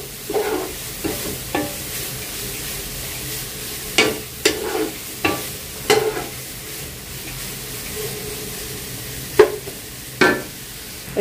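Vegetables with green chillies fry in a pan for chicken vegetable fried rice while a spatula stirs them, giving repeated scraping strokes in irregular bursts over a soft, steady sizzle close by.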